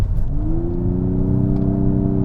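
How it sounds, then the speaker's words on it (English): A 2021 Nissan Maxima SR engine revs hard and climbs steadily in pitch through a simulated shift into third gear, loud and close from inside the car. "Simulating shifts, simulating like a third gear right now."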